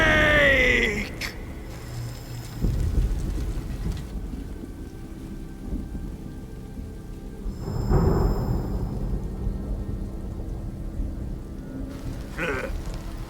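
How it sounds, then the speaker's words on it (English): Thunder rolls during a storm in the video game Metal Gear Solid Delta. Heavy booms crack at intervals over a steady wash of rain and game ambience. "Who's afraid of a little thunder?"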